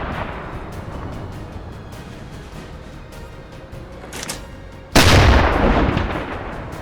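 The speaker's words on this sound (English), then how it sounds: "I spot the oil tanks pretty quickly and lay into them with my deck gun." A submarine deck gun firing on shore oil tanks in the UBOAT naval game, one sudden loud booming shot midway that rolls off into a long rumbling decay, following a steady background hum.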